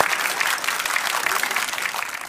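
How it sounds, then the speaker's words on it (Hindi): Audience applause in a Hindi television debate studio, a dense, steady wash of clapping that holds at an even, fairly loud level throughout the short stretch with no voices over it. "ताली बजाइए भाई जोर से"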